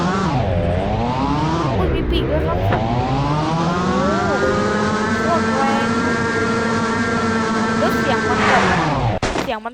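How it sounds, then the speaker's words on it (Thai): Revving sports car skin engine in the Free Fire video game, a loud continuous harmonic drone that rises, dips and climbs again through several gear-like sweeps before cutting off abruptly near the end. "รถสปอร์ตเสียงจะดังมา"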